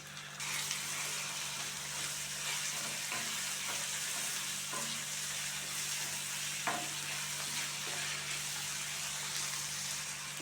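Chopped large tomato fries with browned shallots for a squid gravy, a loud continuous hiss and sizzle up close, with occasional stirring scrapes and no voices.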